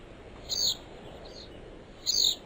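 Two brief, high-pitched bird-like chirps about a second and a half apart, fairly faint over a soft background hiss.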